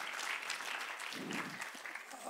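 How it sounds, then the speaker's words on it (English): Steady applause from a church congregation, continuous clapping at moderate volume with a brief low murmur of voices partway through. "Let's give him a round of applause over here."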